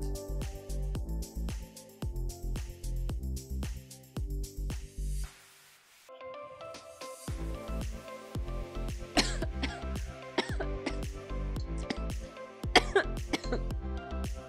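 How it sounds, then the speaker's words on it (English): Someone coughs hard and repeatedly in rough fits after smoking from a bong while music with a steady beat plays loudly, briefly dropping out midway. "That's one of the cons, coughing."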